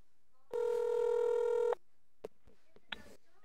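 A telephone rings during a prank call, one sustained electronic ring lasting just over a second, followed by a couple of faint clicks and short tones.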